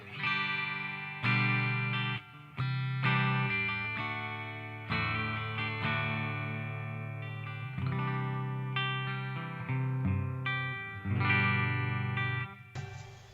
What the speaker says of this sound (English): this first one is supposed to be a Fender Deluxe Reverb 68 type amp sound